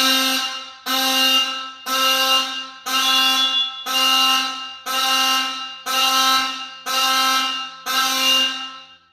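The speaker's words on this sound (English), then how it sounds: "let's go ahead and just use the test button on the carbon monoxide detectors" A vintage Simplex fire alarm system sounds during a carbon monoxide detector test, nine loud, evenly spaced horn blasts, each about a second long with short gaps between them.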